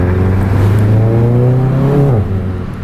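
A DSG-swapped car revs hard under acceleration, its engine note a loud, sustained roar that climbs steadily for two seconds, then drops sharply with a gear change and tails off.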